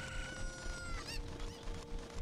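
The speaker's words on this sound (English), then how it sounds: "I think we need 7 cuckoos and we have 2." Cucco chickens cluck and squawk in Zelda: Ocarina of Time, a busy run of game bird calls with a rising squawk near the middle, heard alone without talk.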